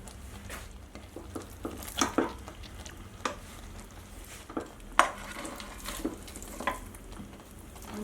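Cooked rice being stirred into melted jaggery in a pan for sweet pongal, with repeated scraping and clinks of a spoon against the pan over a low steady sizzle, no voices.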